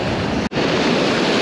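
A strong gale roars over breaking waves on a southern coast, a loud, dense, continuous rush of wind and surf, broken only by a brief dropout.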